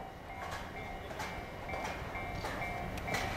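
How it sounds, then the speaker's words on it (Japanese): A diesel locomotive train rumbles and clatters nearby with a steady low roar, faint squeals and periodic clicks, rolling slowly into a station. "列車入ります。 DL おいでよ様も到着いたします。"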